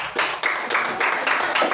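Classroom applause for a student, a short burst of several hands clapping in a quick uneven rhythm, close and fairly loud for under two seconds.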